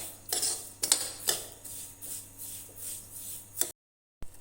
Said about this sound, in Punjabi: ਇਸ ਨੂੰ ਚੰਗੀ ਤਰ੍ਹਾਂ ਮਿਲਾ ਦੇਵਾਂਗੇ